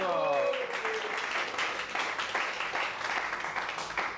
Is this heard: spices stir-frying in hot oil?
no